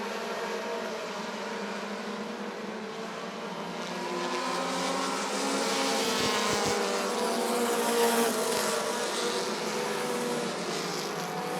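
Short track race cars roar around Rockford Speedway in an American Short Track feature, a steady wall of engine noise that swells louder as the pack passes close by, with no voices.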